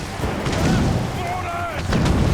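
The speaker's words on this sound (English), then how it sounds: "Ready to open fire! You'll destroy the manor!" Cannon fire strikes a manor in Assassin's Creed Rogue, heavy booming blasts rolling across the scene, with game voices and shouts over the top.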